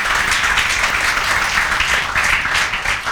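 A classroom of students claps loudly for a classmate named Lavesh during a class 11 maths lesson, a dense, continuous burst of hand clapping close by with no talking over it.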